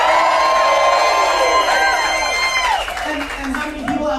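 A cruise ship audience cheers, whoops and claps at a wine-tasting show, a loud burst that swells at once and then slowly fades into scattered applause.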